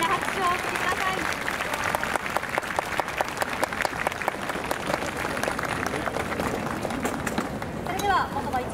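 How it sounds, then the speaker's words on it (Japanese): A big crowd gives a round of applause at a Sailing KOBE dance festival award ceremony, with many sharp claps rippling continuously from start to finish. "大きな拍手をお送りください。"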